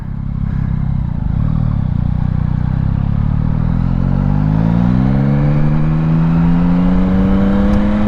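A 2022 Yamaha XSR900 motorcycle engine runs loud and close, its rough idle rising into a smooth, climbing rev that keeps building steadily in pitch, with no voices.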